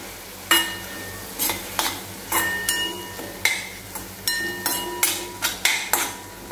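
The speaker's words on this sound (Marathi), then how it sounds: "आता मसाला आणि हळद व्यवस्थित परतून घेऊया आपण।" Masala and turmeric frying in a pan for a cauliflower and green pea bhaji, stirred with roughly a dozen sharp metal clanks and scrapes spaced irregularly over a quiet, steady sizzle, close up with no talking.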